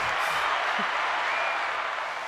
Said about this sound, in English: I got the applause this week for everybody.